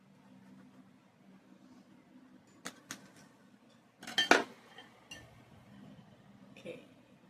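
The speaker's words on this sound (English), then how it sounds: "let's cut this pizza. And we're going to slice them in 4 slices" A knife cutting a baked Jiffy biscuit pizza into four slices, quiet scraping and clinks against a pan with a louder cluster of cuts midway, under faint room noise.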